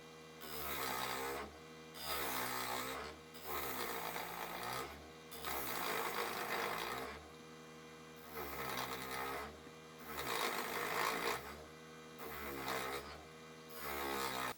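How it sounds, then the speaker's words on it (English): A mini wood lathe spins a wooden darning egg blank while a 1/2-inch gouge rounds over the end. Close, rhythmic scraping and whirring comes in repeated surges with brief lulls, over a steady motor hum. "I used the 1/2-inch gouge to round over the end."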